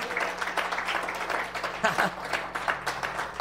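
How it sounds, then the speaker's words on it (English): A church congregation claps in praise during an evening service, a sustained, fairly even patter of many hands with voices talking and calling out over it. "Let's give the Lord a big hand clap of praise tonight"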